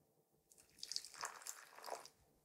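Ice water poured into galette dough: a faint, short trickle and splash lasting about a second and a half, quiet and close, with no speech.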